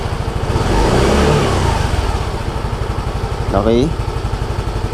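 A Yamaha Mio Gear 125 scooter with a dirty throttle idles low around 1000 RPM, a steady close putter broken by one short rev blip, while someone talks over it.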